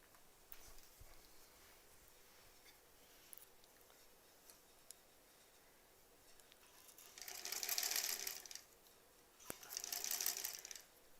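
A sewing machine stitches a quilt block for a sampler quilt in two short, fairly faint runs near the end, after a quiet stretch with a few small ticks and clicks.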